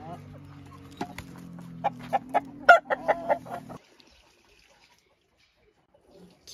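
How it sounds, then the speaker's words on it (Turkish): Backyard chickens cluck in a short burst of several clucks over a low hum, then the sound drops to near silence. "Bu tavuğun da yazık tüyü falan kalmamış."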